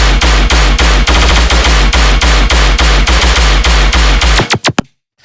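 A heavy electronic gun sample fires in a rapid, evenly spaced burst of booming shots layered over a deep sub bass in an electronic dance track, loud and driving, then ends in a few quick stuttering hits before silence.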